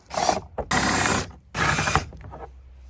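A power drill grinds in a few harsh bursts, drilling out license plate holder fasteners on a truck, two long ones near the middle, with short rattling pauses between.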